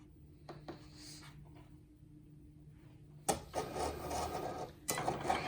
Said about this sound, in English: now I'm ready to put this through the Cricut